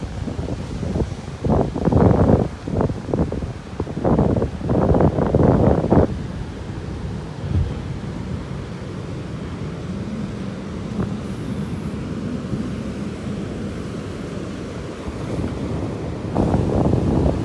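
Strong wind on a beach in North Naples, Florida, buffeting the microphone in heavy roaring gusts over a constant rush of surf, easing in the middle before gusting again at the end.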